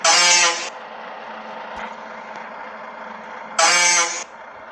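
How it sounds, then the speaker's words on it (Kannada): The second horn option on a modded VRL bus in the Bus Simulator Indonesia video game gives two short, loud honks, each well under a second, spaced about three seconds apart over quiet game background. "second horn"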